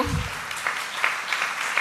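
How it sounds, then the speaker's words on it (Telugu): Church congregation at a Christmas service for women applauding loudly together, a dense burst of clapping that carries on steadily for the whole moment, with a voice briefly at the start. "చప్పట్లు గట్టి కొడదాం"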